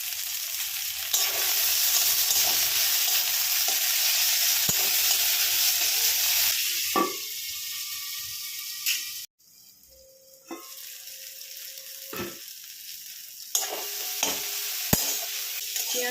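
Chopped tomato fries in a pan for a spicy pomfret curry and is stirred. A loud, steady sizzle runs with scraping strokes, briefly drops away midway, then returns with further stirring clatter.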